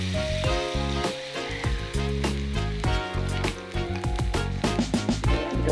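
Mung bean sprout fritters (okoy) frying in oil in a Teflon pan, a steady close sizzle with crackling pops throughout, alone with no talk over it.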